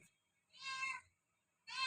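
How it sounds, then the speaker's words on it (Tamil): A domestic cat lets out two clear, fairly close meows, the first drawn out and the second starting just as the sound ends, with quiet pauses and no speech. "அப்புறம் பூனை தான் கத்திக்கிட்டே இருக்குங்க."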